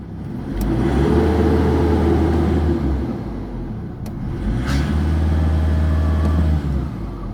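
A 2007 Isuzu D-Max diesel with a faulty vacuum line is revved twice. Each swell of engine noise holds flat as if capped near 2000 rpm, loud and close, with no talk.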